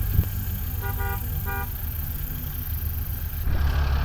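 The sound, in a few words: car horn honking in the distance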